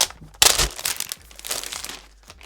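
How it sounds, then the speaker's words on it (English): Plastic wrapping crinkles and rustles close by as a Razer Blade 15 laptop is unwrapped, starting with a sharp crackle and followed by softer irregular rustling. "let's unwrap this laptop"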